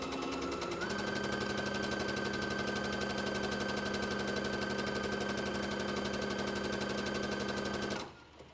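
A sewing machine stitches a T-shirt dress in one continuous fast run, its motor a steady, close mechanical hum with rapid needle clatter for about eight seconds before stopping abruptly.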